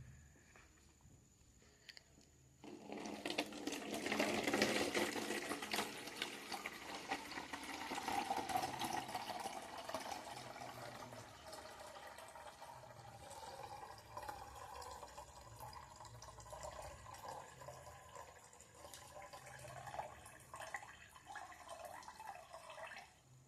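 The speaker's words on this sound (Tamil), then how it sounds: "நம்ம இந்த வாட்டரை மட்டும் எடுத்து இந்த கண்டெய்னர்ல ஊற்றிடலாம்" Water is poured off settled soil into a container, giving a soft trickling, splashing flow that swells early and then tapers into quieter dribbles, faint and close.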